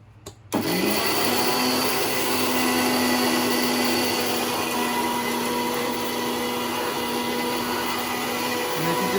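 An electric mixer grinds fenugreek (methi) seeds into fine powder, a steady, loud high-pitched whir that kicks in after a brief quiet start and holds constant to the end.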